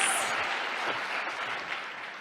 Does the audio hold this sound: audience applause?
yes